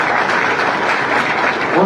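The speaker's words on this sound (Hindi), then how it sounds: "आप सबसे अनुरोध करता हूं कि एक बार तालियों के साथ मैडम का स्वागत करें।" Crowd at a political rally in Hisar applauds to welcome a Lok Sabha candidate of the Jannayak Janta Party, steady dense clapping filling the whole stretch at a loud, even level.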